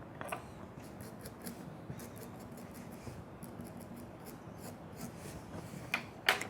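Scissors snip through felt in quick rhythmic strokes, close and fairly quiet, with soft rasping cuts repeating and a couple of sharper clicks near the end.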